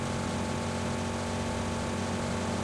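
Steady airplane engine drone in a battle-royale shooter game, a constant loud propeller hum with broad noise running unbroken for the whole stretch, with no talk.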